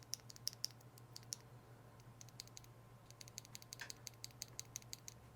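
Quiet-switch typing on an Ajazz AK820 Pro hot-swap keyboard, a steady patter of soft, light clicks in irregular bursts, close and faint over a low background hum.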